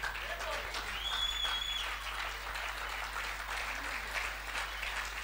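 Church congregation clapping in a Kigali gathering, a steady wash of applause lasting throughout at moderate distance, with faint voices and a tonal whistle-like sound mixed in.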